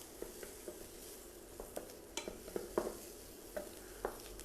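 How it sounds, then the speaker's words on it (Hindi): Onion and garlic sautéing together in a pan as the soffritto base for a kale and baby spinach risotto, a steady quiet sizzle broken by frequent scraping stirs and light clicks of a utensil against the pan. "जब आप सौते कर रहे हैं अनियन को और गार्लिक को एक साथ"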